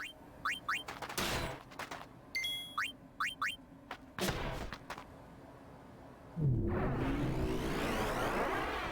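Ethereal cannon attack from Nemesis in the Final Fantasy X HD Remaster video game: a run of sharp rapid-fire bursts and zapping pings, then a heavy sweeping roar that swells and holds.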